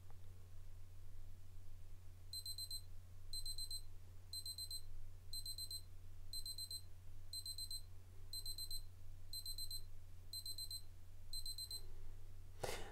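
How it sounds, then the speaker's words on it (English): A Casio F-201WA digital watch sounds its countdown timer alarm as a run of ten evenly spaced, thin electronic beep bursts. Each burst is a rapid cluster of chirps over a steady low hum and faint background noise. "the countdown timer obviously completed itself and it started to beep"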